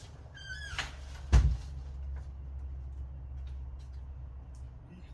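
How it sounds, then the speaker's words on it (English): A single soft thud of a door shutting in a quiet room, preceded by a faint creak and a brief high chirp. "I'm just going to close the door."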